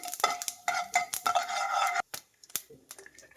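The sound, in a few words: frying and stirring whole spices in a pan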